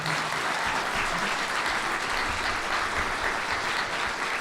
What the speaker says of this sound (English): go ahead and give a round of applause for the candidates tonight